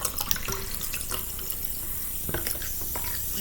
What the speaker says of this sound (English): about to pour a little bit of that water in there